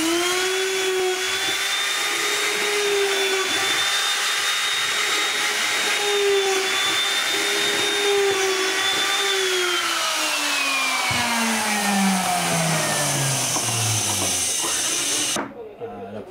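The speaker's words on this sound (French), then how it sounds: "Là, je suis en train de faire les trous sur les traverses." A drill bores holes into wooden frame crosspieces with a loud, continuous high whine. After about ten seconds the pitch sags and winds down, then the sound cuts off abruptly near the end.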